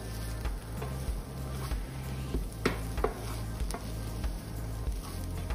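Kanda poha, flattened rice with onion finished with coriander and lime, is stirred in a pan, giving soft scraping and light sizzling with scattered clicks of the spoon against the pan under a steady background hum; no one speaks.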